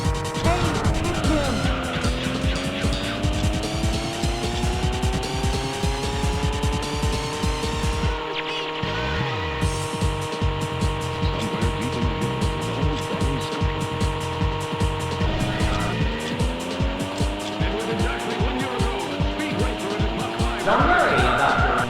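Race cars roar through a two-lap race in a PlayStation 1 arcade racing game demo, with continuous engine drones rising and falling in pitch and repeated tire squeals and skids, while a voice talks over the game audio.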